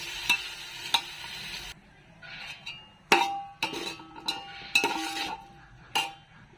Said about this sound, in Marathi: आता आपण टोमॅटो टाकणार आहे. चांगलं मिक्स करून घ्यायचं.